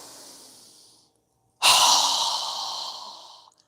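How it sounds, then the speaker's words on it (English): One strong, loud exhale through the mouth during yoga breathing comes right up close, alone after a faint breath, and trails off over about two seconds. "exhale with a strong breath through our mouth as we lower our arms and hands down"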